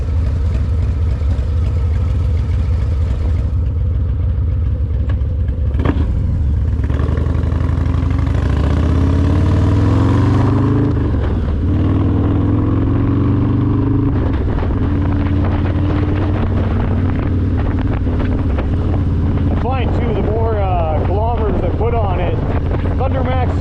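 A 2024 Harley-Davidson Low Rider S with an HPI exhaust, CR483 cam and Thundermax tuner idling and revving, a loud, deep, continuous engine rumble with wind buffeting the microphone throughout.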